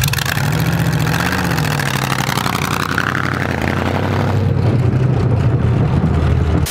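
A 1928 hot rod engine idles through custom TIG-welded stainless steel exhausts, giving a loud, steady, throbbing rumble that holds close and continuous the whole time.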